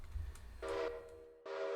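Two short train whistle blasts from a locomotive in the Railroader game, sounding clear and tonal after a low rumble, with a pause between them.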